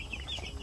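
Chickens with young chicks on a farm, a few soft, quick clucks, near and fairly quiet over low background noise, very brief.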